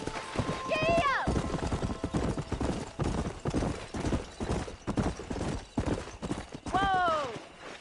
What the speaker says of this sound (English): I'll show you how we ride around these parts. Go! Giddy up!